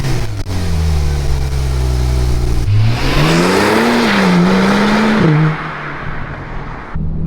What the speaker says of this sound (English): We gotta hop in the 911 Turbo